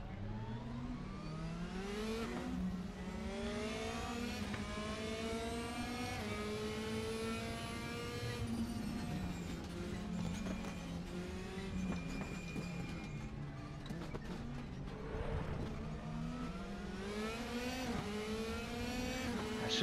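Several race cars in the Raceroom racing game played in VR, their engines droning and shifting pitch together as they pass, a steady dense engine roar for the whole stretch.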